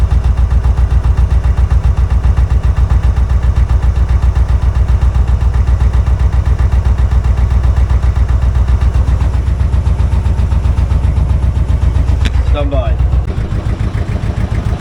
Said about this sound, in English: The engine's been running about 5 minutes.